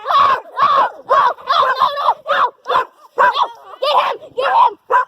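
A dog barks and yips in rapid, loud bursts during a rough fight with a man, the barks coming close together with brief gaps, and no clear speech over them.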